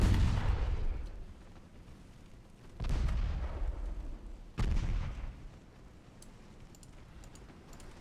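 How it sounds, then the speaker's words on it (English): Light cruiser main guns fire armor-piercing rounds in the naval battle game Ultimate Admiral Dreadnoughts, as three heavy booming blasts, each with a long rumbling decay, over a steady low background. "Light cruiser main guns, armor piercing rounds, please."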